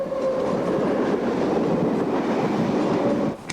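Passenger train interior while riding, with a steady loud rumble of wheels on track and a faint clickety-clack throughout, easing off briefly at the end.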